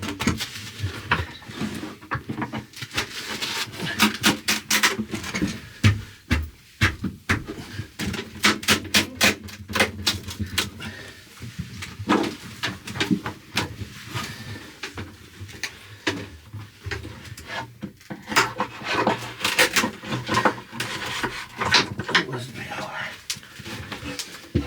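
Glued wood being chiseled out inside a narrowboat, with repeated sharp knocks and taps of the chisel and scraping wood in uneven bursts, close, while a person talks throughout.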